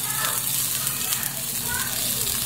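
Onions sauté in a hot pan until softened, a steady close sizzle with faint stirring; someone speaks over it.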